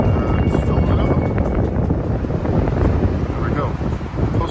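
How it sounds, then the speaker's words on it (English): Strong outdoor wind buffets the microphone, producing a continuous loud low rumble with gusty swells throughout. "It's so windy out here."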